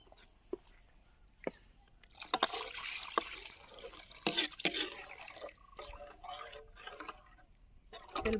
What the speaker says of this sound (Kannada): ನೋಡಿ, ಇನ್ನೊಂದು ಸ್ವಲ್ಪ ನೀರು ಹಾಕ್ತಾ ಇದ್ದೀನಿ.